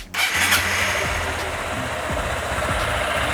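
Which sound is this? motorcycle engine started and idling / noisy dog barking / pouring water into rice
motorcycle engine started and idling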